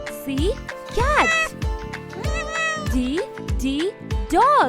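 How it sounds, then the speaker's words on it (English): A domestic cat meows repeatedly, about five clear rising-and-falling cries in quick succession, close and loud with short gaps between them. "C, cat."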